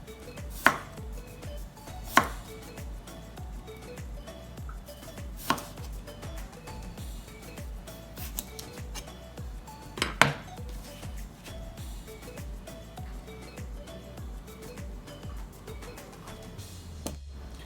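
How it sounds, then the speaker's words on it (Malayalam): Potatoes being cut into wedges with a knife on a cutting board: a steady run of crisp chops, near and fairly loud, with a few sharper knocks mixed in and no talk. "ഇതേപോലെ നമുക്ക് എല്ലാം കട്ട് ചെയ്തെടുക്കാം."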